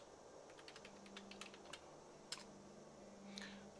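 Quiet, quick keystrokes tap out a console command on a PC keyboard in Skyrim, a light irregular run of clicks with a few sharper taps, no talking.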